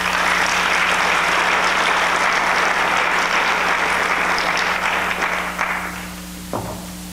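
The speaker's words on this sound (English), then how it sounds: "I got the applause now, I don't need to say anything." Sustained applause from an awards-event audience, loud and dense, gradually thinning and fading toward the end, with a steady low hum underneath.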